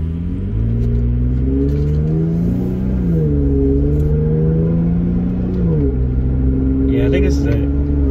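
A Jeep in sport mode with a Pedal Commander throttle controller pulls away from a stop, its engine droning loudly from inside the cabin and climbing in steady stages through gear changes.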